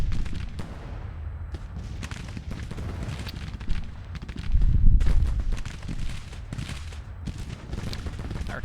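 Gunfire and artillery in Grand Tactician: The Civil War, a steady rumble of distant volleys and cannon booms with scattered sharper cracks, swelling into a heavier burst midway.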